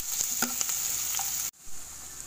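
Onions frying in a pan for butter chicken, a bright, steady hiss with a few clicks and utensil taps, then cutting off abruptly and resuming as a softer sizzle.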